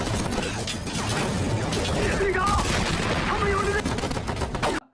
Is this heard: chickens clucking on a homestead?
no